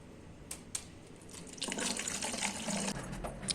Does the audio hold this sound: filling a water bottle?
yes